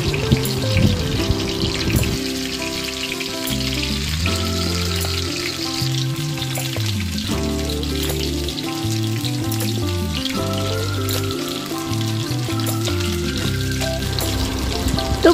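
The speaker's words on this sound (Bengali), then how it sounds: "এতে আমি ভেটকি মাছটা ভেজে নিচ্ছি।" Marinated bhetki fish, coated in salt and turmeric, sizzling in hot oil in a frying pan: a steady close crackle and spatter lasting throughout, with music playing over it.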